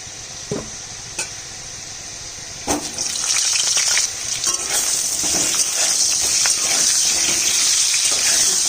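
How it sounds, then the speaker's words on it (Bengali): Small potatoes dropped into hot oil in a wok, meant for a thin mutton curry, begin with a few clinks and then burst into a loud, continuous sizzle with crackling, no voices. "মাংসে যে আলুটা দিব সেই আলুটা ভেজে নিচ্ছি।"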